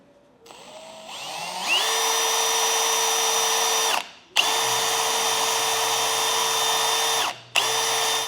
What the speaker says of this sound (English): Now I'm going to use an 1/8 inch drill bit at the start